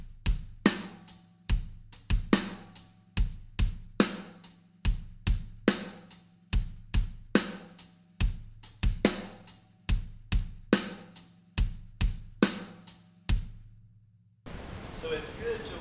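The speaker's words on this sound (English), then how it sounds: "if I played it with the hi-hat on 8s, the groove would sound like this." A hip-hop drum groove is played on a kit, with the hi-hat struck straight on eighth notes over a steady kick and snare pattern, close and even in rhythm. Brief noise follows at the end.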